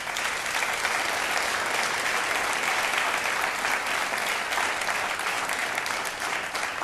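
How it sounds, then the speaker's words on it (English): Crowd at a 2013 Harmony Leadership in Education Award ceremony breaks into applause, a thick, even wash of clapping that stays loud and unbroken from start to end. "So please join me in applause."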